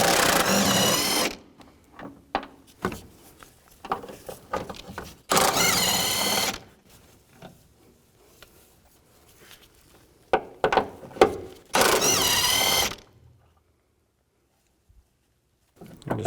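Socket wrench with a 17mm socket ratcheting out engine mount bolts on a 2011-15 Kia Sorento, heard as three loud bursts of rapid clicking separated by quieter clinks and handling noises.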